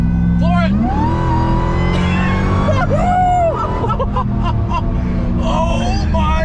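A Hellcat-swapped Jeep Gladiator 6x6 roars at full throttle, its engine loud and close and rising in pitch, with excited voices shouting over the sustained revving.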